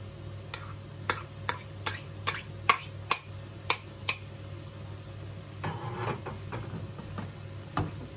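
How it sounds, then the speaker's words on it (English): Dry mince going into a pan and being stirred: a run of sharp, evenly spaced ticks and taps, then softer scraping and shuffling, all quiet and close with a faint hum underneath. "I'm going to go in with the mince."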